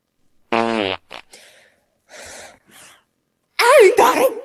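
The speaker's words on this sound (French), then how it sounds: "Ah, maman, t'as pété!" A fart in a family home, heard as short bursts between quiet gaps, followed by a loud close reaction with voices talking.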